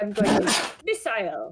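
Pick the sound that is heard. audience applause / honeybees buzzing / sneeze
sneeze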